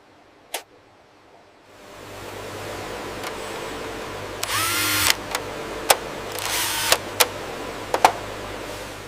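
A hard drive slides into a Mini NAS drive tray on a factory line: two brief scraping bursts and several sharp clicks over a steady low machinery hum.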